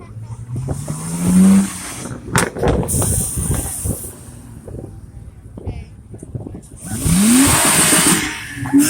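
A car engine revving at a car meet, with several loud rising revs and hissing bursts, close by, alternating with quieter idling and people talking nearby.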